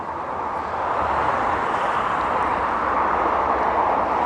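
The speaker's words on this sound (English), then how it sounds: "I don't know if you can hear the cars, but I can." Steady traffic from cars on a road close to a hiking trail near Happy Creek Falls in the North Cascades, a continuous broadband roar with no distinct passes and no talking.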